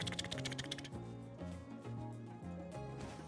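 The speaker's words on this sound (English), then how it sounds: "this keyboard is clickety clackety like crazy" A clicky computer keyboard rattles with quick, dense keystrokes during a Wuthering Waves gaming session, heard close and continuous beneath game music, with no talking.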